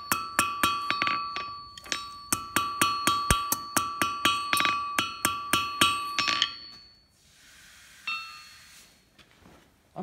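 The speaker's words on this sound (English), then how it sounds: "as I hit backward against the anvil, it'll move right into place" A hammer strikes a hand-forged steel heart pendant against an anvil in a rapid, steady run of bright ringing metallic blows, close and loud, then stops and leaves a few quieter clinks and shuffling sounds.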